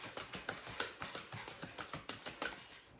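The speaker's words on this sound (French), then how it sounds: "C'est le bruit d'un toutou qui se régale." Close, wet smacking and crunching in quick irregular bursts, a dog chewing and gulping food noisily with no talk.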